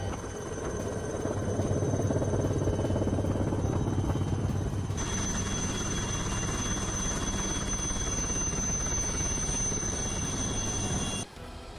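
A Chetak helicopter hovers during a cyclone flood rescue from a rooftop, its rotor and engine making a loud, continuous droning roar with a steady high whine joining midway, then cutting off abruptly near the end.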